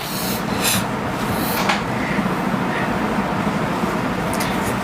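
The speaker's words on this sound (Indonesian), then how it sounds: "Itu suara hujan apa kipas angin? Kipas angin." A steady, even whirring hiss from a running electric fan, continuous and fairly loud with no pauses.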